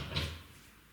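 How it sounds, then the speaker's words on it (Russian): A welded metal ash drawer slides into its tunnel in a fireplace podium, giving a single short scraping rush that fades out within a second. "В подиуме камина сделан специальный тоннель для того, чтобы в него задвигать зольный ящик."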